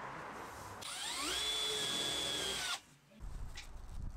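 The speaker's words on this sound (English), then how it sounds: "Here I'm using a hole saw bit to drill a hole so that we can bring through the electrical cables" A hole saw bit drills through a wall panel during a Mercedes Sprinter campervan conversion, a loud steady whine of about two seconds that starts abruptly and cuts off, followed by a brief clunk.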